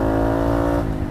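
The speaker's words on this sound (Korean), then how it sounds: "가속합니다." Scooter on Pirelli Diablo or Angel scooter tires, engine droning steadily as it accelerates toward 60 km/h before a full brake test, close and loud, briefly easing off near the end, no speech.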